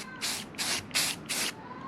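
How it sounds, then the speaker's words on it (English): A Krylon paint-and-primer spray can lets off four even bursts of hissing spray in a regular rhythm, close and loud, with brief pauses between them and no talking. "Oh yeah, that's spraying better already"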